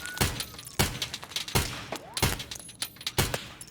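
Full-auto hip-fire from a gun in Escape From Tarkov: short loud bursts of sharp, cracking shots in a rough repeating rhythm, with echoing tails between bursts.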